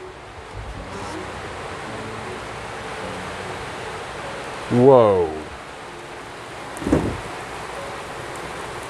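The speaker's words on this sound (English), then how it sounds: "Do you hear the rain?" Heavy rain pours down during a storm as a steady, dense hiss that fills the whole clip, with a brief exclaimed voice partway through.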